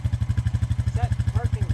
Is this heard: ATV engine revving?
yes